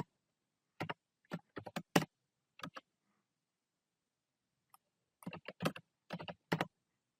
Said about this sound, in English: type 5 plus and press enter